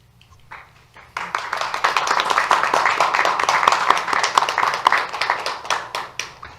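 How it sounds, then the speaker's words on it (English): Applause from an audience at an award ceremony, starting suddenly after a quiet moment and continuing as dense, steady clapping for several seconds, fairly close and evenly loud. "Applause is warranted."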